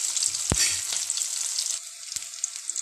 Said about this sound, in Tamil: இப்போ வந்து நல்லா mix பண்ணி விட்டுடலாம் நல்லா வதங்கட்டும்